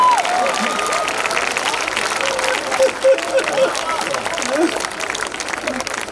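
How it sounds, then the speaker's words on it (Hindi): Audience applause breaks out at a live Hindi poetry event hosted by a poet, loud continuous clapping from a crowd with voices talking over it and a whistle-like tone near the start. "एक बार तालियां वालियां बजा दीजिए"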